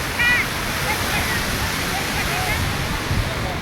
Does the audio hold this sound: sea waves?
yes